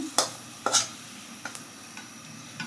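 Hot oil with fried onion, chili and garlic poured over cooked lentils gives a soft, steady sizzle, broken by a few sharp clanks and stirring scrapes of a metal pan and spoon.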